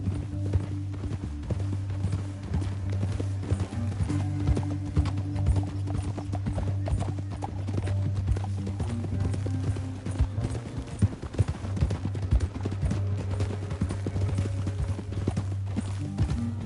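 Hooves clip-clop in a steady rhythm over a low droning background in the video game Red Dead Redemption 2, with an occasional whinny among the continuous trotting.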